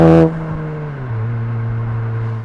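A 2022 Volkswagen Mark 7.5 Jetta GLI fitted with an AWE exhaust gives a short sharp rev that drops away, then settles into a steady, deep idle drone close to the tailpipe.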